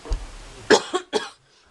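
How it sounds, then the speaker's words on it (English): A short burst of coughing, two or three quick harsh coughs close to the mic after a faint breath, then quiet. "Why do I cough every time I turn my camera on?"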